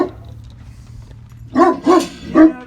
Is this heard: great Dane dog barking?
yes